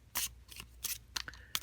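Cards of a Tarot de Marseille deck being shuffled, giving several quick papery riffling bursts in an uneven rhythm, close and fairly quiet with no talk.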